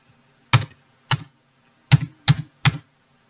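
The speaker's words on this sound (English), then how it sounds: "So now let me type it in again." Typing on a computer keyboard: five separate, crisp keystrokes close to the microphone, spaced irregularly over about three seconds in an otherwise quiet room.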